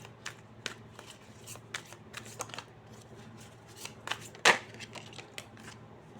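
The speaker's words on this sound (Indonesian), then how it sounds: "Aku kocok lagi ya." A tarot deck being shuffled by hand, fairly quiet and close, with a string of soft flicking card snaps at an uneven pace and one louder slap near the end.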